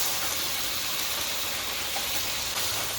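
Water is poured into spices with turmeric frying in a pan, giving a loud, even hiss that holds steady throughout, with no talking.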